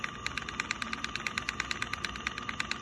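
A Bafang G0F0 e-bike hub motor with faulty gears spins on a bench, giving a steady whine with an even, rapid ticking or knocking pulse throughout, fairly quiet and with no talking.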